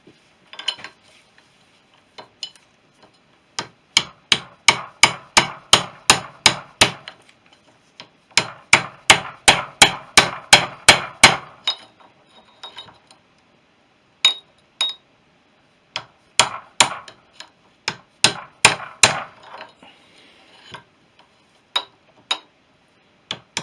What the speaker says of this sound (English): I need a little tappy tap on the top.